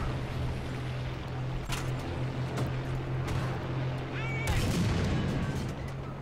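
Tank cannon fire from an M4 Sherman aimed at a T-34 in the video game War Thunder: a few sharp broadband reports, one heavier near the end, standing out over a steady low engine drone and constant rumble.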